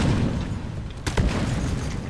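Exploder creatures blowing up in the video game Deep Rock Galactic, a single sharp blast partway through amid a dense, loud background of game noise.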